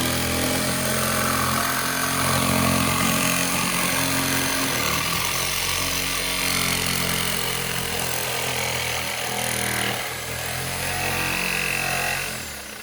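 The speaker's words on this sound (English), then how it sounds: "there's the second one cut off with the Sawzall" A reciprocating saw (Sawzall) grinds steadily through metal on a Ram 1500 pickup with a harsh buzzing rasp, loud and close, running continuously with slight dips in intensity.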